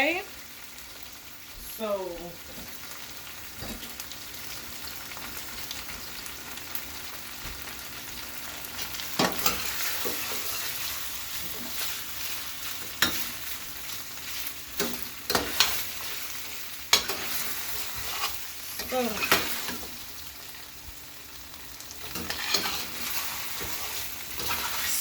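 Chicken fries in a pot for Haitian stew, a steady sizzle with stirring clanks and scrapes close by, and brief bursts of talk now and then.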